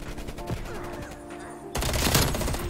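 AK gunfire in the game Black Ops Cold War, scattered shots in the first half followed by a loud, rapid burst of automatic fire near the end, with game sounds underneath.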